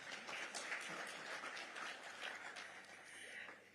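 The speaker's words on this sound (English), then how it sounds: "Let's applaud her for that." Conference audience applauding in a hall, a soft, sustained patter of many hands clapping at a distance, fairly faint throughout with no talking over it.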